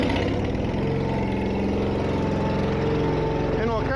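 A trailer's self-contained engine idles steadily and close by, a continuous mechanical drone with a faint rising whir near the end.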